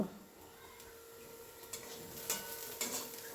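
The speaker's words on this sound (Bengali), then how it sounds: "যতক্ষণ না তেল ছেড়ে আসে আমি এটাকে কষতে থাকবো" A paste of ginger, garlic, tomato, green chili and onion sautéing in mustard oil in a pan, a soft, faint sizzle with a few quiet spatula scrapes and clinks toward the end.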